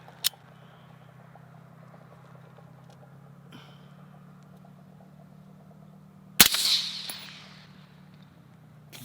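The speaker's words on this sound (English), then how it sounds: "first of 3 shots with the Canco Armory's PowerStroke on the AR-15" A single suppressed gunshot from an AR-15 rifle fitted with a Canco Armory PowerStroke suppressor, heard outdoors as one sharp crack followed by a brief decaying hiss, set after several quiet seconds of low background rumble.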